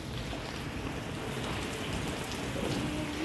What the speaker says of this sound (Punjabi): ਮੀਂਹ ਦੇਖੋ ਕਿੰਨਾ ਪੈ ਗਿਆ ਮੀਂਹ ਮੀਂਹ ਮੀਂਹ ਮੀਂਹ।